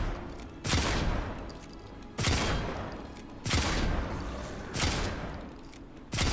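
Gunfire in the Fortnite video game while shooting zombies, five evenly spaced loud blasts roughly a second apart, each with a lingering echoing tail.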